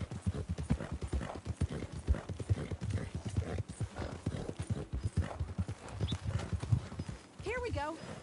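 Horse hooves clip-clop steadily in Red Dead Redemption 2 on the way to a ranch, a rhythmic trot running under continuous dialogue, with a brief whinny near the end.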